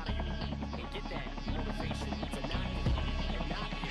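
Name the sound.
helicopter in a video game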